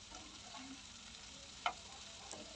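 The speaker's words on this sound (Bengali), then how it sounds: "তো আমি এখন ভালো করে সবজিটাও ভেজে নিলাম" Bitter gourd, eggplant and potato frying with dried fish in a pan: a steady soft sizzle throughout, with a single faint clink partway through and no talk.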